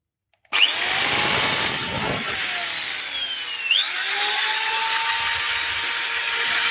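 A power tool motor starts abruptly and runs steadily with a high whine, its pitch dipping briefly midway before settling again; no voices.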